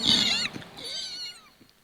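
A mimicry artist on a Malayalam comedy stage show imitates a kitten's meow, giving two thin, high, wavering mews close to the microphone, the second longer and softer, with no other voices.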